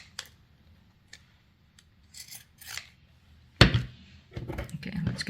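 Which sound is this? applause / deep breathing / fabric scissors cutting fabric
fabric scissors cutting fabric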